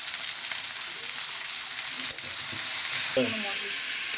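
Vegetables with brinjal fry and get stirred in a pan with turmeric and chilli powder, making a steady, close sizzle punctuated by a sharp utensil knock and a burst of scraping stirs near the end.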